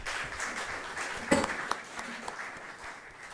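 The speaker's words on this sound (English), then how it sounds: "let's give everyone another round of applause" Research conference audience claps for a panel of speakers, a moderate spread of hand claps with a few sharper individual claps standing out, fading slightly toward the end.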